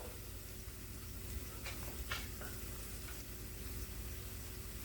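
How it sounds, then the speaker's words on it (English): Plantain chips fry in a pan with a steady, even sizzle throughout, broken by a few soft scrapes and clicks as pieces are turned. "So I'll go ahead and flip the plantain chips over."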